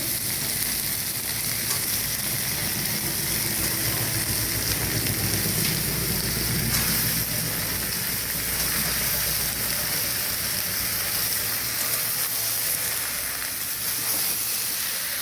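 Bottle gourd sizzles in a pan with green chili and tomato, a loud, continuous frying hiss with some steam, heard up close and without speech.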